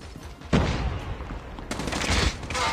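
HVK-30 assault rifle fire in Call of Duty multiplayer, loud bursts of gunfire with a heavy blast at the start and another volley later in the short stretch.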